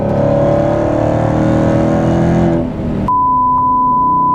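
A Dodge Hellcat Redeye widebody roars loud and close as it revs hard while struggling for traction; the engine note holds high, then cuts off sharply, and a steady electronic beep tone follows.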